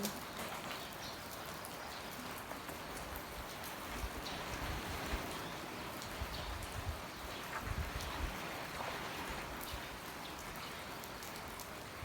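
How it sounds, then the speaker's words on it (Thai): Steady rain falling continuously, a dense hiss of drops hitting surfaces at an even level with no voices. "ฝนตก"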